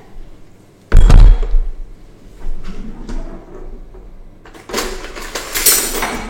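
A spoon stirs food in a metal pot, with a loud scraping clatter at the start, lighter knocks and scrapes after it, then a burst of busy clinking near the end, all close and with no talk.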